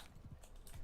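Soft hoof clip-clops from a riding horse in Mount and Blade: Bannerlord, a few quick faint steps in a short burst.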